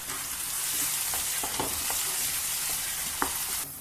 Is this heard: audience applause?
no